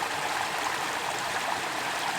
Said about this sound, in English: I found this little river running down from it.